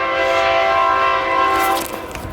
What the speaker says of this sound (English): This damn train.